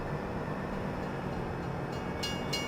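A train rolls along the tracks in Farming Simulator 17 on a Pacific Northwest map, a steady, dense rumble with a faint high whine that holds evenly throughout.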